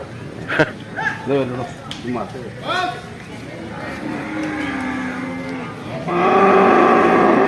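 Buffaloes at a livestock market giving short low calls, with a longer bellow later, amid background crowd noise and people talking nearby.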